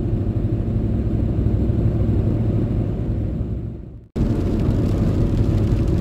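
A camper van cruises along a road with a steady loud engine and tyre rumble, briefly dipping into near silence around the four-second mark before the same driving drone resumes.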